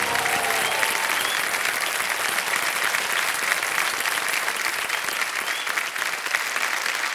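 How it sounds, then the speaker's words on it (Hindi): A studio audience on the KBC India quiz show applauds loudly for a contestant, with dense, steady clapping filling the whole stretch without pause. "जोरदार तालियां बज जाए अर्शदीप सिंह के लिए"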